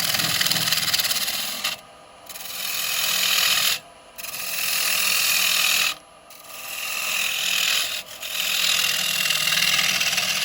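A gouge cuts a wooden bowl on a lathe, producing a loud, steady rasping scrape in long passes of about two seconds, separated by short quiet gaps as the tool lifts.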